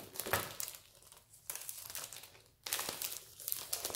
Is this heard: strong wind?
no